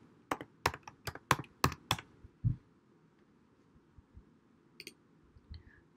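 Several quick keystrokes on a computer keyboard while typing a layer name, crisp close clicks in a rapid burst, then a heavier key press and a few scattered taps.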